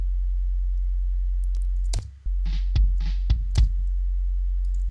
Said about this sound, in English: this tone generator is generating a sine wave at 45 hertz